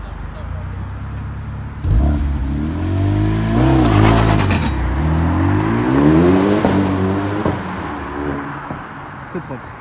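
A Renault Megane RS Red Bull edition pulls away, its engine revving up loudly through rising and falling gear sweeps close by, then fading, while a voice talks over it.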